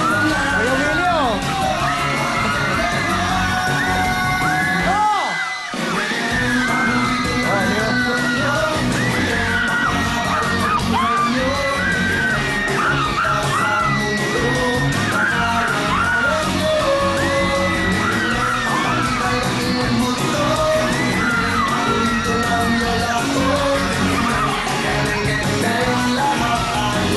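A studio audience at a Filipino variety show shouts, whoops and cheers in a loud, continuous roar, with a host's voice and excited yells mixed in and a brief dip partway through.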